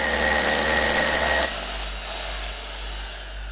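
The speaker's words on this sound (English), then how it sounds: "Start by drilling the hole to the correct diameter and depth." A power drill bores a hole for a shield expansion anchor, a loud close grinding whir for about a second and a half, then it stops and a low hum remains.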